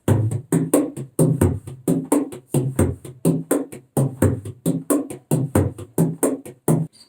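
Hand drum groove played with single-ended rolls, accenting the middle beat: a steady repeating pattern of sharp, close slaps and tones, loud and alone.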